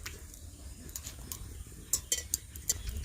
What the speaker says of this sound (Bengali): বুন্দিয়াগুলো ভাজা হয়ে গেছে, এবার তুলে নিচ্ছি।